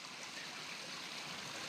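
A mountain river in the Welsh mountains rushes steadily nearby, a continuous broadband wash of flowing water with no breaks and no voices.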